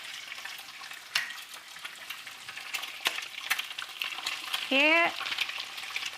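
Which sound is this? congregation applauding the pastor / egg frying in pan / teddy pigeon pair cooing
egg frying in pan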